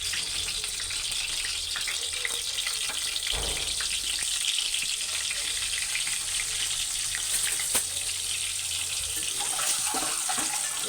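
Eggs fry in hot oil with turmeric for an egg curry, a continuous close hissing sizzle with a few scattered taps and pops and no one speaking.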